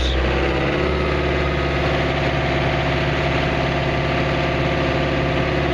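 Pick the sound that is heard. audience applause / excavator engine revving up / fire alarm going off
excavator engine revving up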